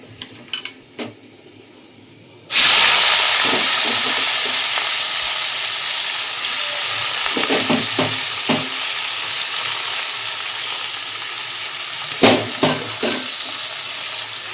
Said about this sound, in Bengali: এই পেঁয়াজ আর রসুনটাকে আবার দিয়ে দিতে হবে তেলের মধ্যে ছেড়ে দেবো